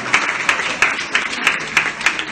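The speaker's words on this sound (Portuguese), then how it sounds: "Palmas pra você." Clapping from an audience at a lecture by Professor Luiz Hosannah, with distinct strong claps recurring at a quick, fairly even pulse over a softer bed of hands, close and fairly loud.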